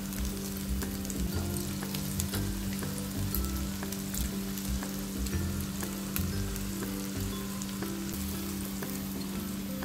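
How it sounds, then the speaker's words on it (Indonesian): Ulen sticky rice cakes frying in oil over medium heat give a steady, dense sizzle with crackling pops scattered all through, close and continuous, with no voices. "Goreng dengan api sedang ya."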